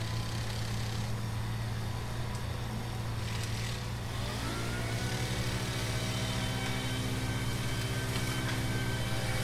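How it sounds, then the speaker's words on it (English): An excavator works behind a backyard fence while trees are being cut, its engine a steady, droning mid-distance hum that shifts pitch slightly partway through. "you can see the excavator back there working its way"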